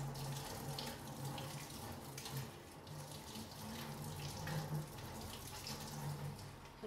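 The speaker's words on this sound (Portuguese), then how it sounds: "Abra a torneira." Water runs from a bathroom sink tap while hands are rinsed, making a steady, soft splashing stream throughout with no talking.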